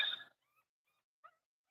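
Newborn puppies give a few faint, thin whimpers and yips, spaced apart in near silence after a brief louder burst at the start.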